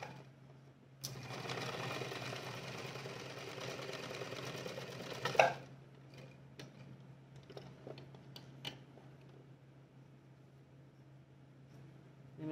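A sewing machine stitches a 5/8-inch inseam in one fast, continuous run of about four seconds, close up, ending in a clack, followed by quiet handling noises and light taps.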